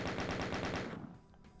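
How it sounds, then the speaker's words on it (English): Rapid, even bursts of chain gun fire in the video game Doom II, about seven sharp shots in quick succession, loud and close, before tapering into a brief fading tail. "he's using the chain gun so much"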